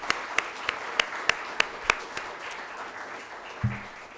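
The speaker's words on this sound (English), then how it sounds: "Can we please give a round of applause to these speakers?" Audience applause at the Biocene 2023 conference wrap-up, opening with a run of distinct loud claps at a steady rhythm, then softening into a diffuse patter of clapping that trails off near the end.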